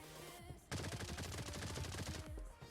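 An Uzi-like submachine gun in a mobile video game fires one sustained automatic burst of rapid, loud, evenly spaced shots that lasts nearly two seconds after a short quiet lead-in.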